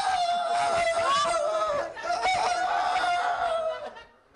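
A performer vocally imitates clucking hens and a crowing rooster in a Turkish orta oyunu folk theatre show from Çankırı. The calls are loud, close and continuous for about four seconds, then fade out at the end.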